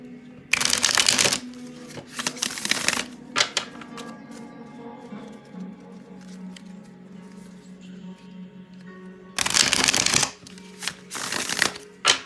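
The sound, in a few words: shuffling tarot cards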